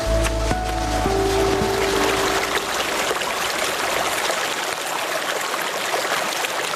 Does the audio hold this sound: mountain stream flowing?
yes